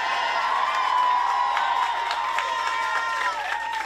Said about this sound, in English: Rowdy crowd when you got school teachers in them.